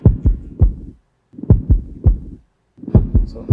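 Heartbeat sound used throughout a Visayan pop song arrangement: deep, loud lub-dub thumps in repeating groups of three or four, separated by short silent gaps.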